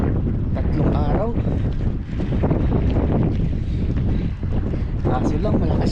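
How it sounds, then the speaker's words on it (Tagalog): Strong wind buffets the microphone in loud, rumbling gusts while ultralight fishing, with a voice speaking Filipino intermittently beneath the roar. "Kaso lang malakas yung hangin mga master."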